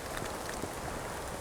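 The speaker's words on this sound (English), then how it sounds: "It's been raining for 14 hours straight now." Heavy rain falls in the Columbia Gorge during a hike, a dense, even patter with no breaks across a short stretch.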